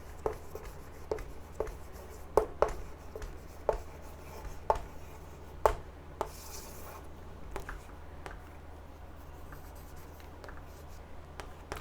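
Pen strokes on paper as geometry answers are written out, soft scratching in short irregular bursts with small taps, close and quiet with no talking.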